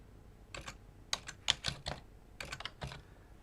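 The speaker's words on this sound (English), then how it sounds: "I'm going to type this out." A computer keyboard is typed on close by in short irregular clusters of light clicks with brief pauses between them, and no one speaks.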